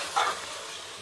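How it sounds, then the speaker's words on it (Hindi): Ginger garlic paste hits a hot pan of mutton for laal maas, giving a sharp hissing sizzle burst that quickly settles into a soft, steady frying hiss. "अब हम इसमें अदरक लहसुन का पेस्ट डालेंगे, 3 चम्मच"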